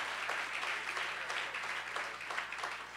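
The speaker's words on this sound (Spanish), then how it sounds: "Can someone give a round of applause to the Lord?" A church congregation at a Spanish-language service in Brooklyn breaks into a short burst of dense, steady applause, filling the room without a break.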